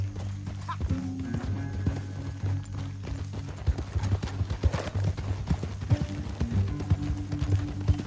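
Horse hooves clip-clop steadily at a walking pace on hard ground in the video game Red Dead Redemption 2, close and clear, with mechanical creaks and low background hum.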